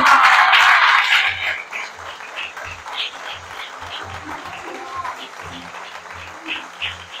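A church congregation claps and cheers during a French-language sermon, the applause loud and dense at first, then thinning into scattered claps and voices in a large room.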